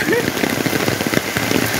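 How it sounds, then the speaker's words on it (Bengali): Heavy rain pours down onto an umbrella and the ground outdoors, a dense, loud, continuous patter right up close with no pauses. "প্রচন্ড বৃষ্টি হচ্ছে।"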